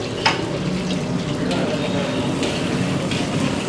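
Cashews roast in melted butter in a pan, a soft, steady sizzle with faint crackles and occasional stirring, close and even throughout.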